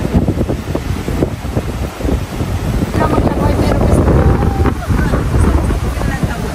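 Strong sea waves slam against a small boat, with a steady roar of rushing water and heavy wind buffeting the microphone throughout. People talk and shout excitedly over the surf.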